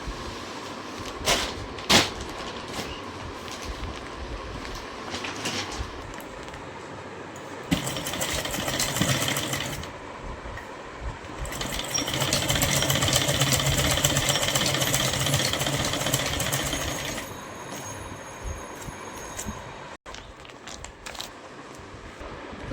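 A sewing machine stitches an old towel, running in two bursts of rapid mechanical whirring, one short and one longer, separated by quieter handling noises.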